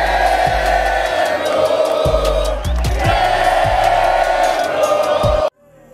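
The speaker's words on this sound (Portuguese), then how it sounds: "Essa torcida é gigante." Grêmio football supporters chant and roar in a packed stadium at the Copa do Brasil match against Operário, a loud, continuous crowd din with rhythmic thumps and voices that cuts off abruptly near the end.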